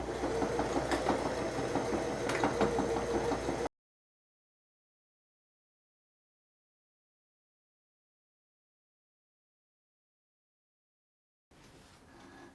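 Sewing machine stitching a bag seam with back stitches: a steady, close mechanical whirr for a few seconds, then silence, then faint stitching resumes at the very end.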